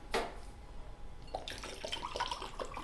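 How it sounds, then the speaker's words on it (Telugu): Water pours steadily into a cooking pot set on a lit stove, a splashy rushing stream that starts after a brief knock, for making a herbal kashayam decoction for cold, cough and fever. "వాటర్ పోసుకుందాము."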